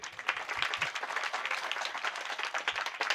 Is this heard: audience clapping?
yes